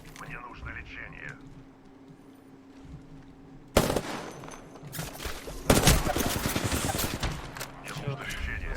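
Gunfire from a video game shooter comes in heavy, rapid automatic bursts that grow louder and denser in the second half. Someone talks quietly in the quieter stretch before the shooting.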